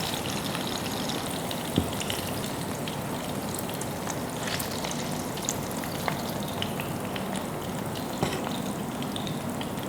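Barbecue meat braising in butter gives off a steady, close sizzle with faint crackles and occasional small pops throughout, and no voices.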